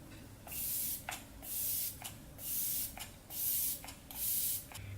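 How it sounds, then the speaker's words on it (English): Flower Beauty Seal to Deal setting mist sprays onto a face in five quick, evenly spaced hissing bursts, close and crisp, with short pauses between pumps. "I'm just gonna use the Flower Beauty Seal to Deal Setting Mist."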